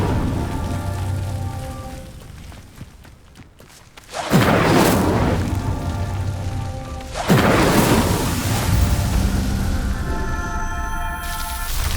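Two whooshing fire bursts from the Incendio spell in Hogwarts Legacy erupt several seconds apart, each a loud roaring flare that sustains as crackling flame over a steady ambient game background.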